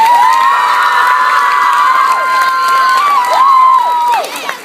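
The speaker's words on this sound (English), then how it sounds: "put your hands together for Terry" Loud cheering and shouting from an audience at a live stage magic show, many high-pitched young voices whooping and yelling together with some clapping underneath, sustained and close before dropping off at the end.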